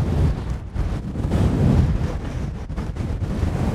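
Strong gusting wind buffeting the microphone on an exposed mountain bike trail at Fort William, a loud, steady roar that rises and falls, with no talking heard.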